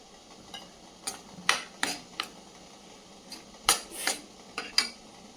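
A metal spoon scrapes and clinks against a pan in several separate strokes while stirring in spices, close by, over a quiet background hiss.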